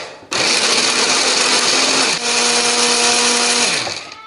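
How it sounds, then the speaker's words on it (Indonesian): A blender grinding spices whirs loudly, starting abruptly, briefly dipping in pitch midway, then grinding on steadily before winding down at the end. "ini bumbunya akan kita haluskan menggunakan blender"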